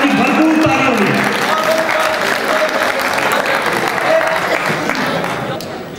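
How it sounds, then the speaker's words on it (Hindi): Full, sustained audience applause at a Sufi poetry mushaira during a Lahore festival, dense and steady clapping filling the hall for the whole stretch and easing slightly near the end. "आप सबकी भरपूर तालियों में।"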